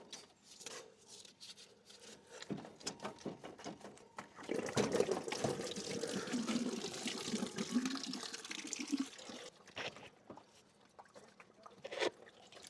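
Water gurgles and rushes steadily through a Volkswagen Golf Mk1's cooling system, unused for 12 years, during a flush, a low continuous flowing noise with occasional splashes and clanks nearby.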